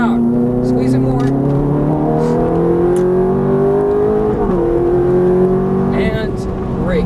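Ferrari F430 F1 engine revving under full throttle on a racetrack at Exotics Racing Los Angeles, a loud steady droning whine that rises in pitch, dips briefly, then climbs again, with an instructor talking over it.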